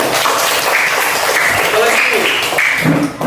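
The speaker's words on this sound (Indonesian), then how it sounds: "Oke, tepuk tangan" Classmates in a school classroom clap together, a short, loud burst of mixed hand claps with voices talking over and between them.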